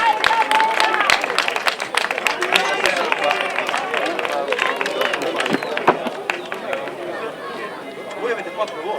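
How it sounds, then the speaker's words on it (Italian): An audience at an evening song festival in Santa Brigida claps and chatters after a choir's songs, a dense patter of hands close by mixed with crowd voices and a speaking voice. "Un bel applauso."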